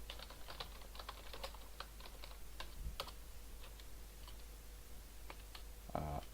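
Fingers tap quickly on a computer keyboard with irregular, close clicks and brief pauses, faint over a low steady hum.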